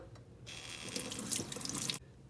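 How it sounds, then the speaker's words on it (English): Tap water runs over potatoes being washed in a sink, a steady close hiss of flowing water lasting about a second and a half before the faucet stops. "Get some potatoes, wash them,"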